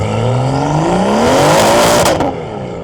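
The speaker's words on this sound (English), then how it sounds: "I want to kind of like see how much this thing spins in the snow on sort of a launch." A car launching on a snowy road with launch control engaged, its wheels spinning for grip, engine note rising steadily with a loud, continuous whir, then easing off near the end.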